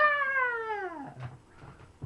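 A single cat's drawn-out yowl slides downward in pitch for about a second, close and clear, followed by quieter rustling and small noises.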